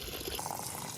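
Rainwater drains out through a hole cut in the bottom of a tub, a steady, close trickling and gurgling flow that runs without a break for the whole short moment.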